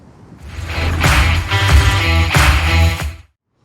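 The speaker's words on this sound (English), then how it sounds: "It was meant to be just a gentle breeze, but the wind is getting up" Strong westerly wind at a beach in Shoreham, a loud blustery roar buffeting close up with rising and falling gusts for about three seconds before cutting off abruptly.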